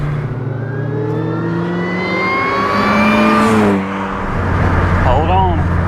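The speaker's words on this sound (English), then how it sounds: "As you go faster, it does feel kind of sketchy. Yeah, but it pulls strong though." A supercharged Chevy Cobalt SS accelerates on the road from inside the cabin, the engine and supercharger whine climbing loudly in pitch, easing off around a shift, with people talking over it.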